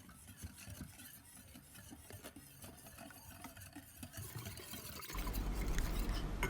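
A spoon stirring a thin batter of water, sugar, rice flour, cornstarch and salt in a bowl, giving soft continuous scraping and swishing strokes, quiet and close, with no talk.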